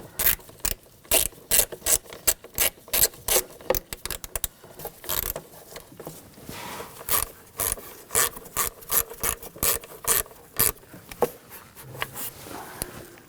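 Ratchet clicking in quick repeated bursts of sharp pawl ticks while snugging down the ignition coil bolts on a 2000-2006 BMW X5 3.0L inline-six, close up with short pauses between strokes.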